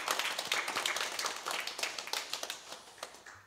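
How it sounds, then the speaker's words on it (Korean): A church congregation at a Sunday worship service claps together in a warm round of applause, many hands close and fairly loud, thinning toward the end. "우리 박수로 한번 감사하겠습니다."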